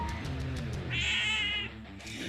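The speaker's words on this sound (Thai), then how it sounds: "แมวครับผม" A cat meows loudly and close by, a drawn-out tonal call, with a quieter meow before it, while faint game sounds from Garena Free Fire play underneath.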